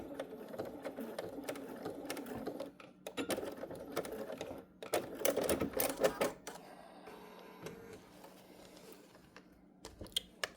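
Sewing machine tacking the end of a zipper on a fabric pouch, sounding in short rapid mechanical bursts separated by pauses, with clicks and handling noise around them and no talking.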